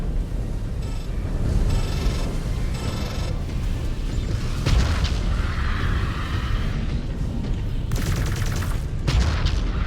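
Weapons fire and explosions in the mech combat game Ghost Bear: Flash Storm, a dense, continuous barrage of booms and rapid gunfire bursts that rises and falls over about ten seconds.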